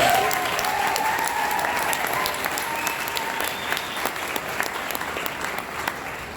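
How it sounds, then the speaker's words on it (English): An audience at a free speech event applauds, a sustained, somewhat distant crowd clapping with scattered sharper claps standing out as it gradually tapers. "So I want to give you all a round of applause."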